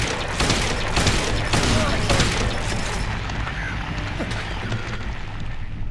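Rapid bursts of gunfire in the Silent Hill 2 video game crackle loudly over a low rumbling drone, repeating in quick volleys for several seconds and then thinning toward the end.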